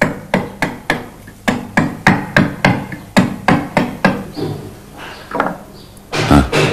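A hammer repeatedly striking a fairly soft stone slab, about a dozen sharp, evenly paced blows close by, then a few lighter knocks and scraping toward the end, with no voices.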